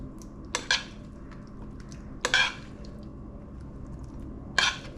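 Sausage and bacon pieces being spread over a Hungarian potato bake in a dish, heard as three short scraping, clinking bursts of a utensil against the dish, close by, with quiet gaps between them.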